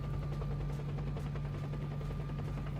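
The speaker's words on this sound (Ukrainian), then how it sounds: "я чую гвинтокрив, котрий ще й стріляє, але я не бачу нічого при цьому" A distant helicopter's steady rotor drone with bursts of rapid machine-gun fire crackling over it, faint and continuous, in the video game S.T.A.L.K.E.R.: Shadow of Chernobyl.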